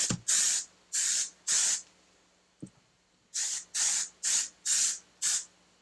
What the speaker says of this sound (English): I'm just not a fan of the way that this sprays. It's like a little harsh.